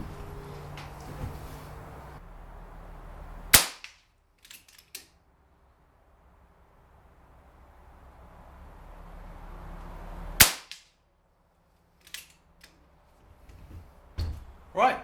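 Two sharp, loud air rifle shots fire FX Hybrid 22-grain slugs, each a crisp close crack followed by a faint distant impact, with quiet gaps and a few small clicks from handling the gun.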